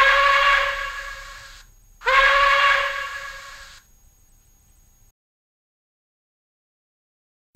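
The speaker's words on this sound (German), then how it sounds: "FF2 Dampfpfeife kurz." Short steam whistle from a PIKO BR 82 tank locomotive sound model in N scale: two clean, bright toots with a brief gap, then a fading hiss and silence.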